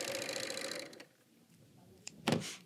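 A Bernina serger stitches off the edge of the fabric, its dense, fast motor whir running steadily for about a second before stopping, followed by a short click and a soft thump.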